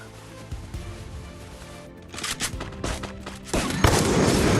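Bursts of gunfire in the Free Fire video game, rapid shots and fusillades growing louder and denser toward the end, close and sharp.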